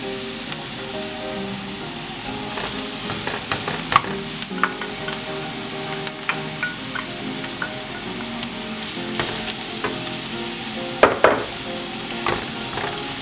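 Chorizo fries in a pan with a little oil, giving a steady close sizzle broken by scraping stirs, with louder spatters near the start and again around the end.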